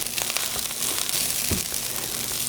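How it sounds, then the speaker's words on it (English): Chicken, broccoli and rice being stirred around a hot pan, a few soft scraping and rustling strokes close up over a steady sizzle, no talk. "Now I'm going to stir it around."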